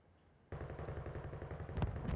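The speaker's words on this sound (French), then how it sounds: "c'est ce qu'on entend avec la grosse mitrailleuse, là, il est sur la banque" A heavy machine gun firing from a tower rooftop toward a bank in a duo battle video game, a sudden sustained burst of rapid, rattling shots with a louder crack near the end, heard at a distance.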